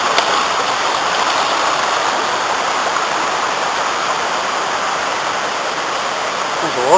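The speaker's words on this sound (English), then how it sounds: "There's a waterfall." Waterfall on a small tributary of the Afon Ysgethin, a steady, loud, broadband rush of falling water that stays constant throughout with no voices.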